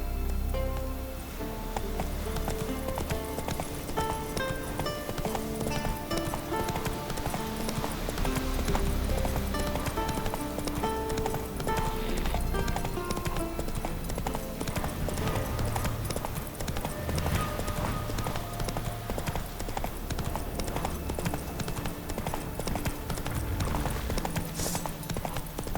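Horse hooves clip-clopping at a steady gallop in The Witcher 3 video game, a continuous rhythmic pounding over game music and ambient rain, with an occasional whinny and no talking.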